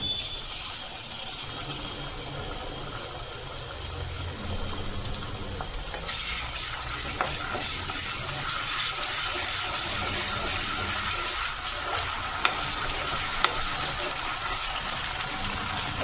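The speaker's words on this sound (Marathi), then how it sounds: "आलं लसूण पेस्ट टाकूया थोडी।" Ginger garlic paste sizzles in a hot pan with chilli while a chicken rassa curry is being made, stirred with steady scraping. The frying hiss holds throughout and turns brighter and louder partway through, with no voices.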